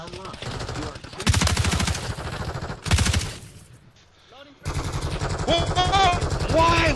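Automatic gunfire in the video game Modern Warfare 3 during a gun battle in a grow house: loud, rapid sustained bursts that cut off, pause briefly, then resume with in-game sound effects, with a player's voice speaking at times.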